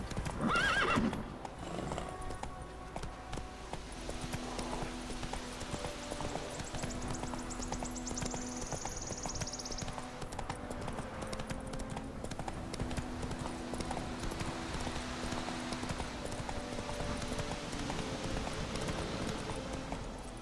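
Steady clip-clop of horse hooves at a quick trot in the video game The Witcher 3: Wild Hunt, with a horse whinnying early on and soft background music throughout.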